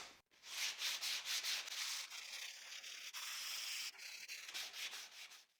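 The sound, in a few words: sanding wood after applying glue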